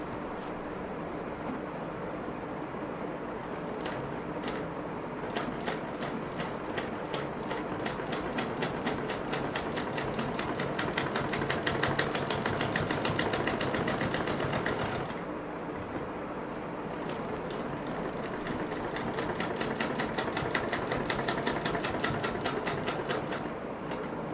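A sewing machine stitching a bag, running in a steady fast rattle of needle strokes, close and moderately loud, with a short pause midway before stitching resumes.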